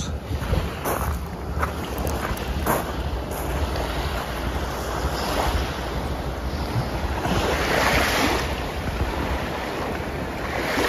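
Surf rolls in steadily on the shore of Umashima island in Ehime, with constant wave wash and wind buffeting the microphone throughout and no voices.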